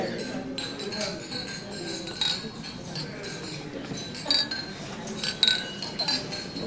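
Glasses clink several times during a toast at the World Affairs Council of Philadelphia 65th anniversary gathering, scattered bright chinks amid the murmur of guests talking.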